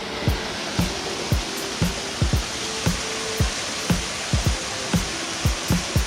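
Crescent Falls waterfall at St Mary roars as a steady broadband wash, joined by a run of sharp, regular low thumps roughly every half second, like footfalls or knocks close by.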